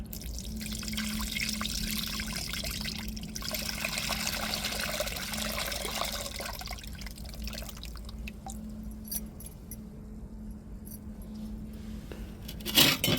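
Tamarind water poured into a murrel fish curry in a cooking pot gives a steady, close trickling and splashing of liquid that runs throughout, with no talking.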